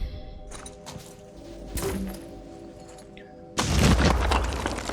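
A grenade goes off in the turn-based strategy game Phoenix Point, a sudden loud, broad blast with crackling debris that bursts in near the end after quieter game sounds and a short thud.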